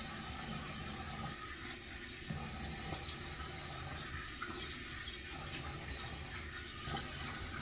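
Water running steadily from a tap while a face is rinsed after shaving, a soft continuous stream with occasional small splashes and clicks, quiet and close.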